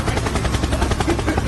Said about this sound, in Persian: هلیکوپتر